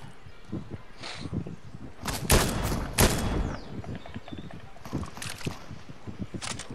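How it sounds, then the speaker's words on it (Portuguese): Gunshots ring out in a Fortnite match, a few sharp cracks and short bursts amid game ambience with some player chatter. "eu tô ouvindo o tiro"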